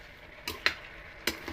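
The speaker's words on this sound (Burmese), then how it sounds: "ပြီးရင်သူ့ကိုဇွန်းနှစ်ချောင်းနဲ့ဝယ်လိုက်မယ်" Two spoons scrape and clink against fried noodles in a pan, three brief taps and scrapes spaced out over a quiet, faintly sizzling background.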